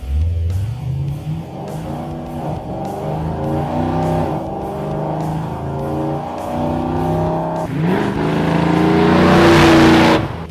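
A 1972 Chevrolet C10 pickup with an LS3 V8, 6L80E automatic and stainless H-pipe exhaust pulls hard under acceleration, its loud engine note climbing through several upshifts and peaking in a rising roar, heard up close without talking.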